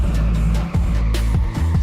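Formula 4 race cars at Brno roar loudly with a crash, engines droning steadily under sharp scraping and tyre-like bursts over less than two seconds, no voices.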